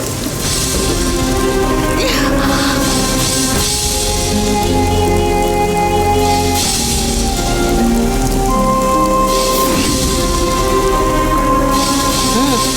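Heavy rain pours steadily and loudly throughout, a dense hiss of drops on surfaces, with faint tonal sounds running underneath.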